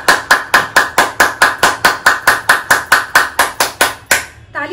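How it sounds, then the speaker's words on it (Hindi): A single person claps hard and fast, about sixteen sharp, evenly spaced loud slaps in a steady rhythm, done as a hand-clapping acupressure exercise, then stopping with a brief trailing sound. "ताली बजा दीजिए ऐसे।"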